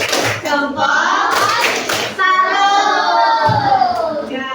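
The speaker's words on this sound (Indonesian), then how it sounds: "Iya, untuk menghasilkan energi kita beri tepuk salut untuk Alma." Fifth-grade schoolchildren in a classroom perform a rhythmic clapping salute, patterned claps mixed with children's voices chanting along.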